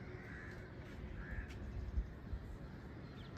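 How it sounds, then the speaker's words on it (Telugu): Crows cawing outdoors at sunrise on a cold morning, two drawn-out caws rising from a steady low background rumble, moderately distant and fairly faint, with no one talking. "కాకులు కూడా వరుతున్నాయి."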